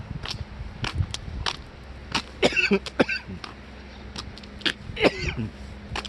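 Someone coughs repeatedly in short, harsh bursts, close by, with brief pauses and throat clearing between them, during camper-van camping at a harbor in Seogwipo, Jeju.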